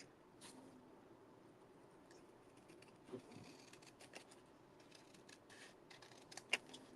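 Scissors trim material in a few quiet, close snips, sporadic sharp cuts spaced over a faint room background, with one louder snip near the end and no talking.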